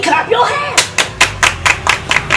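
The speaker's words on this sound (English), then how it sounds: "Everybody clap your hands!" A group of people clap their hands in a steady rhythm, about eight crisp, loud claps in quick succession, following a brief voice at the start.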